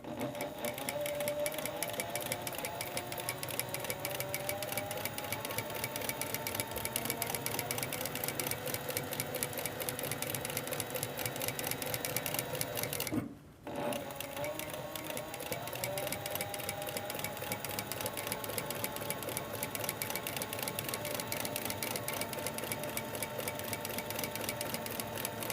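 Sewing machine stitching a single row around the outside edge of a layered leather Christmas ornament with snowflake trim, running steadily and loudly up close with a rapid rhythmic clatter and one brief pause midway.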